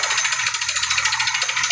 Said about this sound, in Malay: Inilah keadaan dia kalau kita tepuk batu, dia bunyi macam ni.